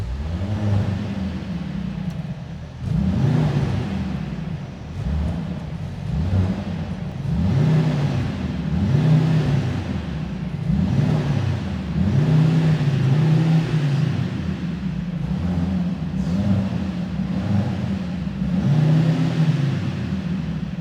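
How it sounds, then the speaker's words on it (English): A 2024 Mercedes GLC63 AMG e-Performance with a four-cylinder engine revs hard on a held-brake launch start, its loud rhythmic engine note repeatedly surging and dropping for about twenty seconds with no talking. "But now we'll be listening to the GLC63 e-Performance. We'll be also trying to do an emotion start, okay, with the pedal hold."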